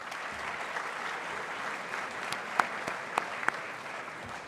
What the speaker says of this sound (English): So please, a round of applause for the school.